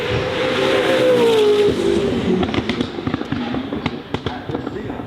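Singer 21C hypercar driving up a hill climb course, a loud engine note rising then fading as it passes, followed by sharp crackles and pops, with a commentator talking over it.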